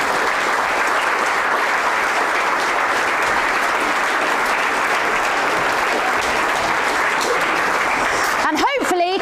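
An audience gives sustained, loud applause to the performers at a Shakespeare performance grand final, a dense, even roar of many hands clapping that carries on, with a voice breaking in just at the end.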